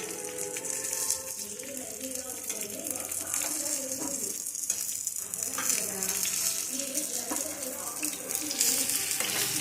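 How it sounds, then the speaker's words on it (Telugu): Masala-stuffed white eggplants from a home garden fry in hot oil, producing a steady close sizzle with occasional stirring scrapes and a soft murmur of other background sound beneath. "అప్పుడు ఇలా మసాలా పెట్టిన వంకాయల్ని మళ్ళీ ఆయిల్లో వేయాలి."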